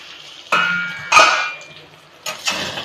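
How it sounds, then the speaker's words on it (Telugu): A metal lid placed on a cooking pot of softening tomatoes: clanking metal contacts, one sharp ringing clatter, then a couple of lighter knocks as it settles, close and alone. "అయితే మూత పెడుతున్నాను"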